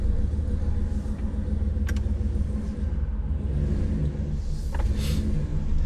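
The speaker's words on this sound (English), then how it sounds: "The engine running and no check engine lights is always a nice new touch." A Jeep Gladiator fitted with a 5.7-litre Hemi V8 runs steadily with a deep, continuous low rumble, heard close and loud with no talk over it.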